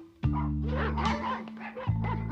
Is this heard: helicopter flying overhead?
no